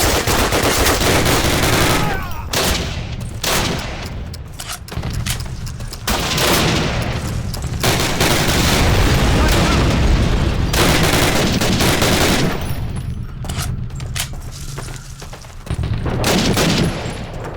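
Heavy gunfire and explosions from a Call of Duty (2003) World War II cutscene set during Operation Overlord: dense, loud machine-gun bursts and booming blasts continue almost nonstop, with brief lulls between volleys and shouted voices under the battle.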